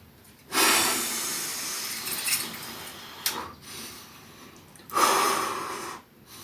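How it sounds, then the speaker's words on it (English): Heavy, forceful breathing during a bullworker exercise, with loud rasping exhales and snorting gasps in a few long bursts separated by brief quieter pauses, close to the mic. "Control the breathing."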